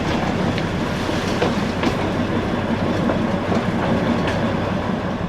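The Darjeeling toy train pulls out of Siliguri Junction, a loud, close, continuous rolling rumble with steady clickety-clack of wheels over rail joints and faint metallic squeals.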